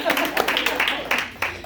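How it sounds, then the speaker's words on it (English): Audience clapping at an indoor thank-you ceremony for a 21-day challenge, a steady patter of hands with a few sharper peaks, with voices mixed in. "Give her a round of applause"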